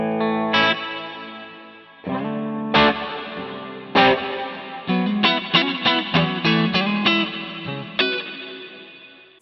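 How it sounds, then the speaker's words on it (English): An electric guitar played through the hall reverb on a Harley Benton DNAfx GiT Pro rings out in picked chords and single notes, each leaving a long, spacious tail that fades slowly between phrases. "Hall reverb. Same thing, I'm just going to crank the level there so you can hear it."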